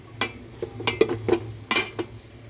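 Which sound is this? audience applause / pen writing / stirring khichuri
stirring khichuri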